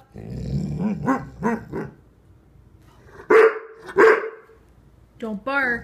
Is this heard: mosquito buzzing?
no